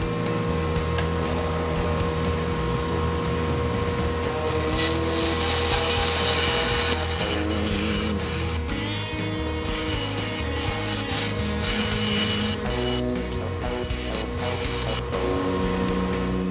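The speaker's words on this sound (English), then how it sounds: "the tape is just to hold these pieces together while I cut it out on the bandsaw" Bandsaw slicing through a stack of exotic wood veneer sheets held together with tape, a steady rasping, rubbing cut with a constant machine hum underneath, close and continuous throughout.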